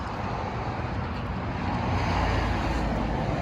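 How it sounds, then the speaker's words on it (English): Road traffic noise at a car show holds as a loud, steady broadband roar of passing vehicles, with no speech. "Sorry for the road noise"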